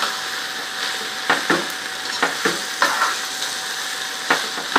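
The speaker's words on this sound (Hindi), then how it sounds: "इसको जरा से जरा फ्राई करेंगे ताकि इसके मसालों की इसमें खुशबू आ जाए।" Okra and onion with spices fry in a pan, a constant loud sizzle broken by repeated sharp scrapes and knocks of a spatula stirring every half second or so, with no talking.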